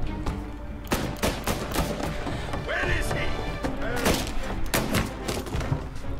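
Gunfire in the video game Mafia Definitive Edition: repeated sharp shots and bursts crack out in irregular clusters over a busy background of thuds and game sounds.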